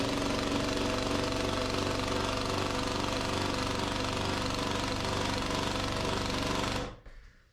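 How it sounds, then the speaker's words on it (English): A Craftsman brushless impact driver hammers rapidly and continuously, driving a 6-inch TimberLOK screw into pressure-treated wood, a loud, dense, steady rattle that stops abruptly near the end. "we're gonna run a 6-inch timber lock into the pressure treated"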